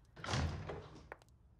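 A door swings open with a broad thudding whoosh followed by a couple of small latch clicks, fairly close and alone in a quiet room.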